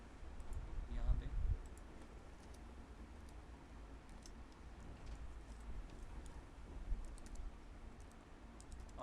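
Computer keyboard typing during a web front-end design lesson, light irregular clicks and taps at low level, close but faint, with a soft room hum and a brief thump near the start.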